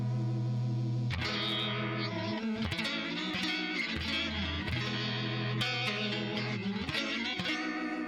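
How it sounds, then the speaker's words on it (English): Electric guitar chords strummed steadily through the chorus effect of an Ampero II multi-effects pedal, with a shimmering, swirling modulation and some grit, played alone with no talking. "So that's one of the choruses. That's the first chorus."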